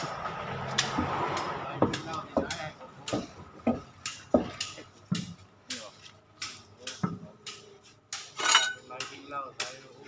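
A mechanic fits a wheel onto a D559 vehicle in a repair garage, with sharp metallic clanks and taps of tools and parts sounding at an uneven rhythm, close by, while people talk in the background.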